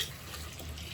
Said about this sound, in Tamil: இப்போ நம்ம ஆட்டி வச்சே மசாலா ஊற்றிடுவோம்.